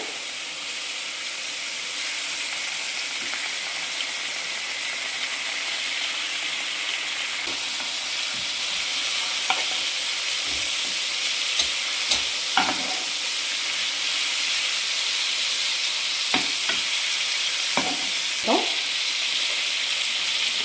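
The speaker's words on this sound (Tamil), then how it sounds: "அந்த சிக்கனை அதுக்குள்ளே போட்டு அப்படியே புரட்டி எடுத்துக்கோங்க" Chicken pieces fry in a hot pan while being turned and stirred for banana-leaf biryani: a continuous loud sizzling hiss with scattered scraping knocks of the spoon against the pan.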